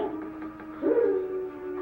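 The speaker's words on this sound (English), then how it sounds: "Dogs howling." Dogs howling at night in a gothic drama, a single mournful rising howl heard briefly over quiet eerie background.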